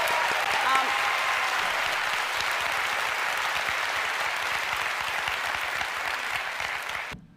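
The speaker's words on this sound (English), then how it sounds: "I wish they were clapping for me." Sustained audience applause, a steady wash of many hands clapping at moderate distance, holding evenly for several seconds before cutting off abruptly at the end.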